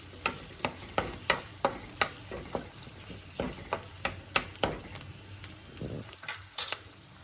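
Garlic and curry leaves frying on low flame in a pan, a soft sizzle broken by regular sharp spoon clicks and scrapes against the pan, close up with no talking.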